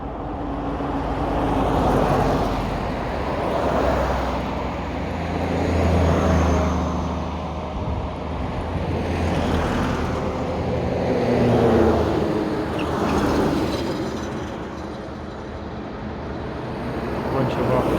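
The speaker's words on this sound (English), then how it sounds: "Got some cars coming" Cars roll past on a nearby road in slow, swelling waves, each approach rising and fading over several seconds, with a steady low rumble and a voice talking now and then.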